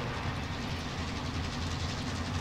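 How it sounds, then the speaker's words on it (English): Steady low rumble of a moving train in a multiplayer shooter video game, a continuous heavy rolling drone with no breaks, fairly quiet and without speech. "Do you guys want to hijack a train?"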